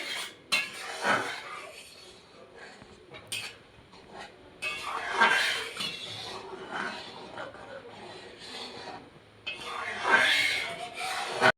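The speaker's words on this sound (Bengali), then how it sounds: "এবার আমি উচ্ছে পাতাগুলো এর ভিতরে দিয়ে দেবো। দিয়ে এটাকে একটু নেড়ে চেড়ে" A utensil stirs bitter gourd leaves into boiling lentil dal in a pot, producing intermittent scraping and clinking against the metal with soft bubbling between strokes, in several separate bursts.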